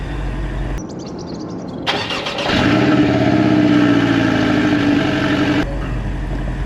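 A Porsche Boxster's engine starts with a starter whir and catches into a loud, flaring rev, then settles into a steady, rumbling idle close by.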